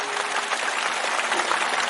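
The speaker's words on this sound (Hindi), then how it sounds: "आप सभी ताली बजाकर स्वागत करें" An audience at a religious wedding ceremony, the enactment of the marriage of Rukmini and Krishna during a Bhagavat Katha, claps in welcome, a dense continuous round of applause from many hands.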